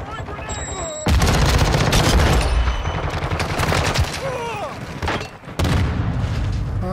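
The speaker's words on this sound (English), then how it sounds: "Throwing a stun grenade" A stun grenade going off in the video game Call of Duty MW2 amid heavy gunfire, loud bursts and booms starting abruptly after a short quiet moment, with automatic fire continuing and breaking off briefly before resuming.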